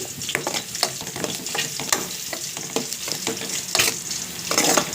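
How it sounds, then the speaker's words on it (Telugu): Thinly sliced onions and curry leaves fry in hot oil with a close, crackling sizzle. Repeated stirring scrapes and clicks from a spatula run over the whole stretch, loudest near the end, with no voices. "ఇవి బాగా వేగనివ్వండి ఆనియన్స్ బాగా వేగితేనే టేస్ట్ చాలా బాగుంటుంది"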